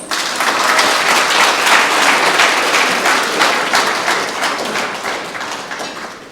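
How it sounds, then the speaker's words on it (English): Audience applause at a book launch event in Melbourne, Australia: a dense, sustained round of clapping from a seated crowd, steady and loud for several seconds before gently tapering. "Please give her a round of applause."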